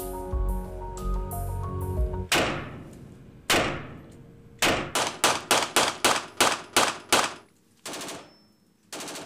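Rifle test firing at a weapons manufacturer produces sharp, loud gunshots: a few spaced single shots, then a rapid string of around ten evenly spaced cracks, ending with a final shot.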